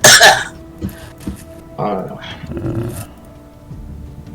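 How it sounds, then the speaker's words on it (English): A man gives a few rough coughs and throat-clearing sounds. They come close to the microphone and are spaced unevenly, with some muffled vocal noise between them. "I'm gonna follow up, coughing behind you."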